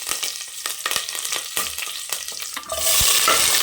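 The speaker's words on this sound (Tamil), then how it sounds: "கடுகு போட்டுக்கலாம். உளுத்தம்பருப்பு போட்டுக்கலாம். கடலைப்பருப்பு சேர்த்துக்கலாம். கருவேப்பிலை போட்டுக்கலாம்." Mustard seeds, urad dal, chana dal and curry leaves sizzle and crackle in hot oil while being stirred in a pan, with scattered pops and a louder, denser hiss swelling near the end.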